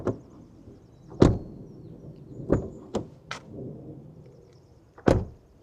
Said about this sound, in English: No rattles, just like a solid, well-made, sound deadened door